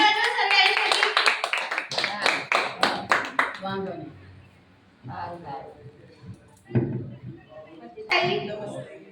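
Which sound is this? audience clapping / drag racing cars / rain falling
audience clapping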